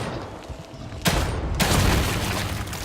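A gunshot rings out in the horror video game The Evil Within 2, landing as a headshot: a loud, sharp crack followed by a burst of sustained noise and rumble, with no talk.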